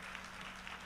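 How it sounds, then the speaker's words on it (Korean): An audience claps together at a convention session in a brief, dense burst of applause. "축제의 박수 한번 다시 한번 부탁드리겠습니다"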